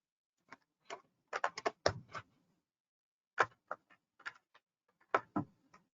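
A computer keyboard clicks close by in irregular clusters of sharp taps separated by short pauses.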